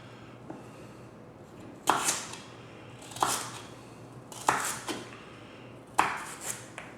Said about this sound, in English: we are going to chop up 2 sticks of celery